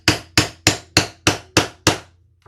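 Seven sharp, evenly spaced hammer taps strike in a steady rhythm, close and crisp, during work on a sewing project for a tote bag, followed by a faint small knock at the end.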